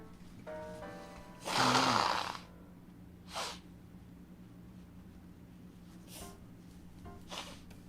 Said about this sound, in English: gotta blow my nose again.